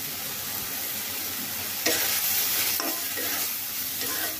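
Dried mola fish hits a hot pan with green chillies and vegetables, sizzling loudly and steadily, with a sharp burst as it goes in and the scrape of stirring throughout.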